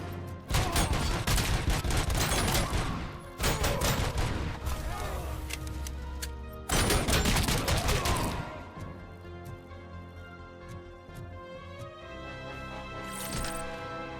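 Shotgun fire in the video game RoboCop Rogue City, with loud, dense bursts of blasts and impacts in three long volleys, then quieter game ambience and a brief final shot.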